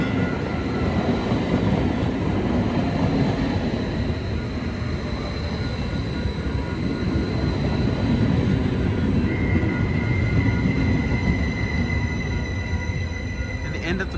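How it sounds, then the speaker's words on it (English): A Caltrain Stadler KISS electric multiple unit, cars 322 and 321, passes close by in Burlingame, a steady loud rolling rumble with wheel squeal and a rising high tone near the end, continuous throughout. "this is Caltrain, train number 630"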